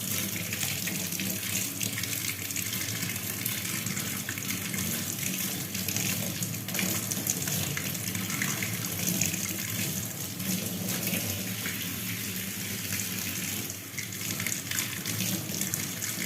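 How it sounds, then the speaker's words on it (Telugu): Freshly picked home-grown radishes are rinsed under a running kitchen tap, a steady, even gush of water splashing into the sink for a long stretch with no voices. "ఇవే మన టెర్రస్ మీద నుండి తెచ్చుకున్నటువంటి రాడిష్ని మనం చక్కగా వాటర్లో వాష్ చేసుకోవాలి"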